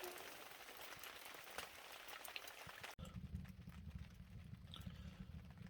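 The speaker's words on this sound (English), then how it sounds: "Hasn't stopped raining in a while." Rain patters steadily on a hot tent pitched on a snowy winter beach, a soft continuous hiss with scattered drips, quiet and unbroken except for a brief cut midway.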